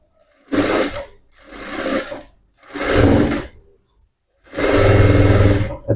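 Sewing machine stitching two layers of cloth in a tailoring lesson, four loud bursts of rapid mechanical whirring separated by short pauses, close and without talk.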